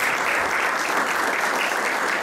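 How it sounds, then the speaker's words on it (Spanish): An audience applauds steadily at a talk on Christian social political thought, a dense, even clapping from a seated crowd that holds at a constant level for the whole stretch. "Dejo, por favor, con un aplauso a la doctora María Luisa Aspe."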